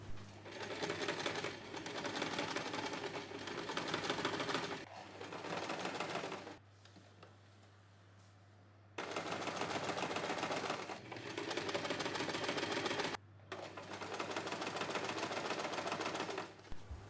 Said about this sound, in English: Go ahead and sew the webbing and label onto the fabric.